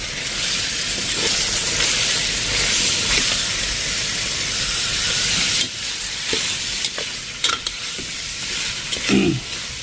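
Chicken meat sizzles and fries in a hot cooking pot, a steady loud hiss with occasional stirring scrapes and clinks toward the end, no talking.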